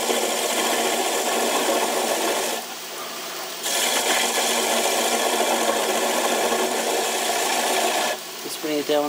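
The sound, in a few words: wood lathe turning down a bowl tenon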